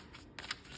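A deck of tarot cards is given a quick little shuffle, a brief soft riffle of card edges, close and quiet with no talk.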